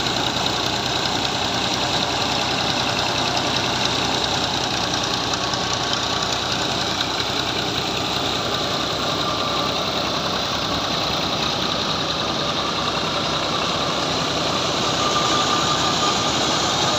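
An old Fiat 480 tractor from around 2000 idles steadily and close by, with a constant knocking diesel rumble and vibration that runs unchanged throughout and no voices over it.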